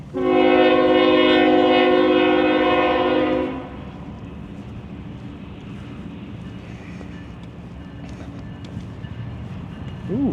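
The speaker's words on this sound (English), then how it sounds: "There's a train coming through." A loud, sustained train horn blares for a few seconds, then cuts off, leaving the steady rumble of a train rolling past, heard in Belgrade, Montana.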